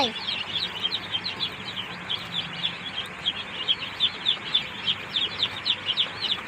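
Many Tiger breed chicks cheep and peep continuously while being given water, a dense, steady chorus of high chirps at close range over faint background noise.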